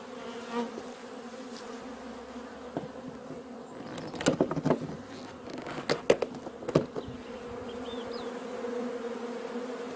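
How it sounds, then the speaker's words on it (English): Honeybees swarm around an opened hive entrance, giving a steady, close, droning buzz with a few louder passes near the microphone and no talking. "Yeah, look at these bees."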